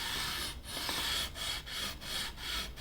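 Guitar frets being sanded with sandpaper in rhythmic back-and-forth rubbing strokes, about six even passes, close and fairly quiet with nothing else heard.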